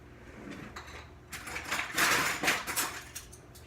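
Tablespoon measuring spoons being pulled out in a home kitchen, a cluster of light metallic clinks and rattles with a soft scrape, close by and fairly quiet, no talking.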